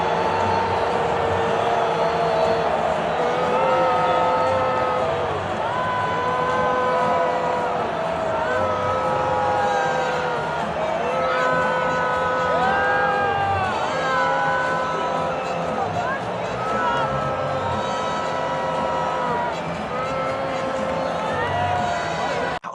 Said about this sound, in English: he gets booed at this US Open